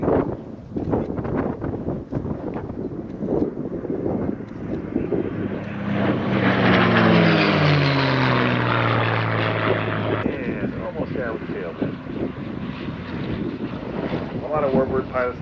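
A propeller airplane makes a low pass at an airshow, its engine drone swelling and sweeping down in pitch as it roars past close by, then fading, with wind noise and crowd chatter throughout.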